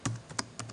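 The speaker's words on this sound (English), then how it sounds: "So I'm going to type in" Fingers type on a computer keyboard, giving a handful of quick, soft clicks in an uneven rhythm, close and faint with no talking.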